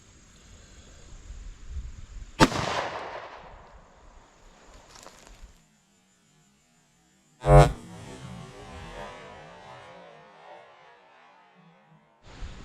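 Two sharp, loud pistol shots, one 9mm and one 30 Super Carry, fired into gel blocks holding chicken, several seconds apart, each with a ringing tail and a brief echo.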